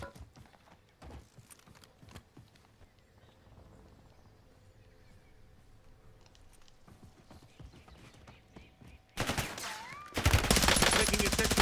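Gunfire in Call of Duty Warzone in Verdansk, a scattering of sharp distant shots and clattering impacts building to a loud, dense burst of close automatic fire at the end.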